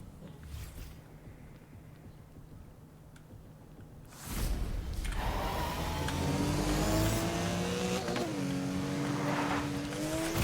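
Game car in Need for Speed: Most Wanted (2012) bursting into a loud acceleration, engine pitch climbing through gear shifts as it slides sideways in a drift, preceded by a quieter idle stretch.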